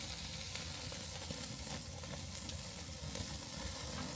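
Steaks sizzling on a Weber grill, a steady, faint hiss and crackle of fat over the fire continuing without pause and without talk.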